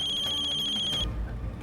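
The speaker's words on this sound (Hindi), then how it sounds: "मुख्यमंत्री जी का फोन।" Telephone ringtone for an incoming call from the Chief Minister in a Hindi TV drama: a steady, repeating electronic trill rings clearly for about a second, then cuts off, leaving low room noise.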